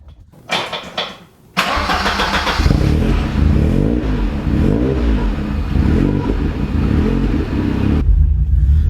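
A Ford Sierra Sapphire RS Cosworth cranks with a short starter whirr, stumbles, then fires into a loud, steady engine note with light revving that holds to the end; no talking.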